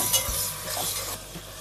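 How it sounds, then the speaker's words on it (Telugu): Ginger garlic paste fries for a chicken curry, a dense close sizzle with a spoon scraping and stirring through it, easing slightly toward the end. "జింజర్ గార్లిక్ పేస్ట్ని పచ్చివాసన పోయేంత వరకు ఫ్రై చేసుకోవాలి."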